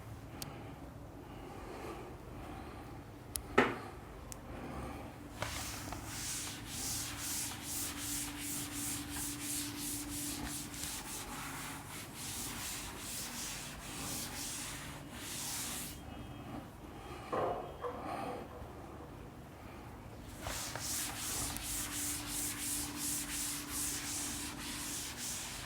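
During a Class 12 electrostatics lecture, a diagram is wiped off the board in repeated close scrubbing strokes that come in bursts with short pauses between them, and there is no talk over it.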